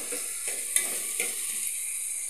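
Pani puri mixture stirred in a pan, a steady soft scraping and gentle sizzle with a few sharper utensil knocks, close and continuous with no talking.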